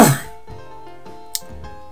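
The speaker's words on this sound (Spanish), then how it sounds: "Perdón, como siempre, la carraspera, esta la carraspera." A single throat clearing from a Spanish-speaking man during a BTD Battle Arenas game session, a short rough burst near and loud at the start, followed by quieter game music and a brief click.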